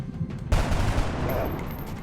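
Gunfire in the XCOM Enemy Unknown video game during a Chryssalid terror mission in Sydney, a sudden loud burst of rapid shots that rings on for about a second and a half.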